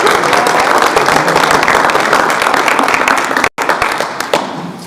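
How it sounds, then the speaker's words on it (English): An audience at a school board meeting breaks into loud, dense applause, clapping steadily for nearly five seconds with a brief cut partway through before the clapping thins out. "We can give you a round of applause"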